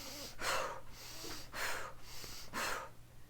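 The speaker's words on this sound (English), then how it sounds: "But don't just breathe deeply, breathe forcefully and quickly." Forceful, quick, deep breaths, three strong rushing inhale-exhale bursts spaced about a second apart, close and loud with no talking.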